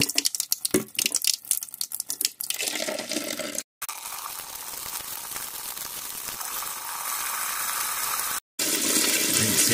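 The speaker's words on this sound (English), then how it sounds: "So turn cold tap on." Cold water runs from a tap while anodised aluminium parts are being stripped and rinsed with soap, a steady close rushing stream that starts after some clatter and holds with two brief breaks.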